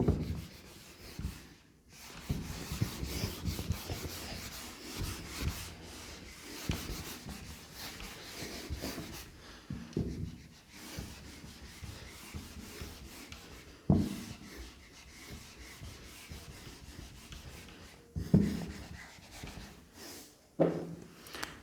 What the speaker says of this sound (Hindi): ये वाले मैं रब कर रहा हूँ